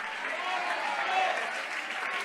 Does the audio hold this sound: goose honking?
no